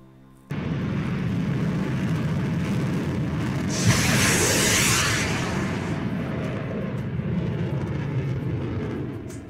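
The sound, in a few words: F-16 firing AIM-120 AMRAAM missile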